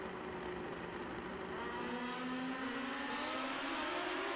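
A 1500 cc Kawasaki-powered drag bike screams down the strip at a drag racing finals event, a rising high-pitched engine wail held steady and fairly distant for several seconds.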